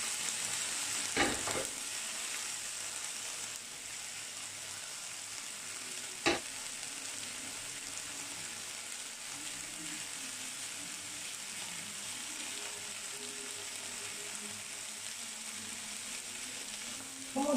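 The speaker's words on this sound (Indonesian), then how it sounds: "Kemudian kita akan balik lagi untuk memanggang bagian atas ini ya, biar ada aroma gosongnya." Prawns brushed with grill seasoning sizzle steadily on a grill, a continuous hissing crackle with a couple of sharp clatters as they are handled.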